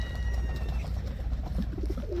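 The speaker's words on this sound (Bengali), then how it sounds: "এইগুলো হচ্ছে কবুতর কত বড় বড় কবুতর দেখেন" Large pigeons at a camel farm in the Saudi desert cooing in low, throaty repeated calls, close and fairly loud against a background hum, with a brief higher chirp near the end.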